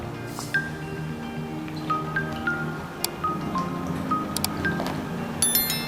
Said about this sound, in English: So I'm washing just trying to take off the dirt.